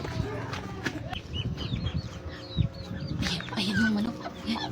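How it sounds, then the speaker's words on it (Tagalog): A chicken clucks repeatedly in short bursts, close by, while people talk over it. "Ayan yung manok."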